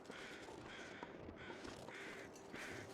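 Crows caw repeatedly in the video game The Long Dark, harsh calls rising and fading over a constant windy outdoor ambience, with no voices.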